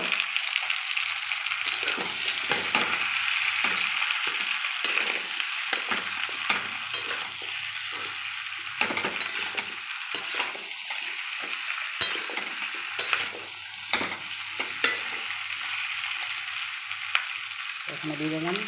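Mustard and mango paste for a tangy-sweet garlic amra pickle fries in hot oil with steady sizzling, broken by repeated scrapes and clatters of a stirring spoon against the pan. No one speaks.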